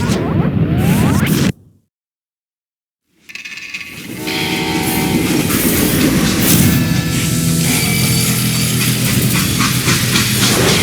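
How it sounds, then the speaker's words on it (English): A train rolls along the rails in the Western video game Call of Juarez, with a brief rumble, a sudden drop to silence, then a loud, steady clattering rush that carries on to the end. "how'd they stop this train in the first place?"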